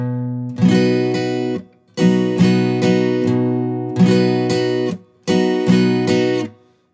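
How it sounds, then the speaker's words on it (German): Acoustic guitar chords strummed in an arpeggio picking pattern in slow motion, four evenly spaced bursts of bright ringing strings with short gaps between them, close and loud with no talking. "Das Anschlag-Pattern in Zeitlupe hört sich so an."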